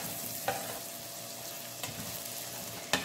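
A chopped small onion hits a hot pan for one-pan white sauce spaghetti, producing a continuous close sizzle with three sharp utensil taps or scrapes spaced across it.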